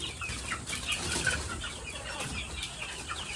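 Chickens cluck and chatter softly amid a noisy outdoor background, with occasional rustling like wings shifting.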